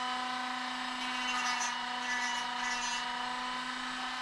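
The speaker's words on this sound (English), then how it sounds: "So I think I might Dremel it." Dremel rotary tool shaping a small wooden scroll-saw dinosaur puzzle piece, a steady high-pitched whine holding throughout at close range with slight variations in load.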